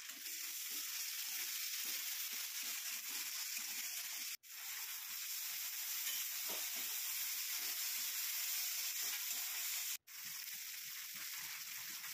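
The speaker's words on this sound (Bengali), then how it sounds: "সামান্য মটন ফ্যাট দিয়ে কষিয়ে নিলাম। তারপর টমেটো কুচি দিয়ে মটরগুলো ছেড়ে দিলাম।" Green peas and chopped tomato fry in mutton fat, a steady, close sizzle that runs unbroken with a light stir now and then and two brief dropouts, no voices.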